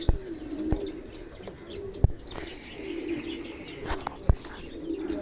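Fancy fantail pigeons and other ornamental birds released outdoors, with low cooing running through and a few sharp wing claps and flaps standing out, plus faint chirps in the background.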